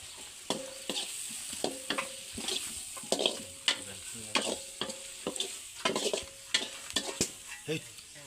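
Cloves and cardamom fry in a pan over a gas flame, a soft sizzle broken by regular spatula scrapes and taps, fairly quiet and close, with no talking.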